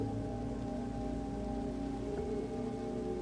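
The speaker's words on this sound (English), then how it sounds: "It's raining right now too." Steady, dense rainfall in Minecraft patters continuously with a soft, even hiss over a low background hum, with no voices.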